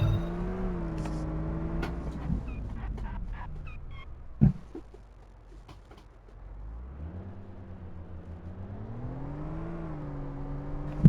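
Engine of a car in a city driving video game, revving up and down in wavering pitch with a couple of sharp clunks, fading low midway before climbing again.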